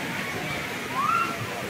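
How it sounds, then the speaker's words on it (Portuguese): Water pouring at a waterfall on a river with very clear water on a country property, a steady rushing wash with a faint whistling tone over it, no talk heard. "Aqui, olha, a parte da cachoeira."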